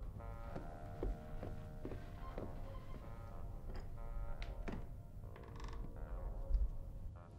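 A door creaks open in a film scene, giving a long, strained, wavering creak with a few soft knocks and clicks, fairly faint over a low hum.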